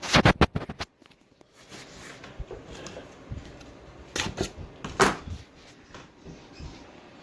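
A box for a Huawei smartwatch being cut open, close sharp scrapes and slicing strokes, a quick cluster at first, then quieter rustling and a few more scratchy cuts.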